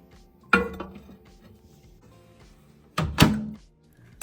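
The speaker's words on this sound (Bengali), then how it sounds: "বাটিটিকে এবার আমি মাইক্রোওয়েভ ওভেনে দিয়ে দেবো" A bowl of prawns is set into a microwave oven, giving a sharp clunk, then a second louder thud with a faint clink as the oven door shuts, with quiet kitchen background between.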